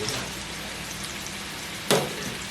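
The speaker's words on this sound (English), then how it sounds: "You have to just fry them both sides, maybe like 2-3 minutes one side and 3 minutes other side" Galouti kebabs frying in a pan, a steady soft sizzle with a single sharp crackle near the end.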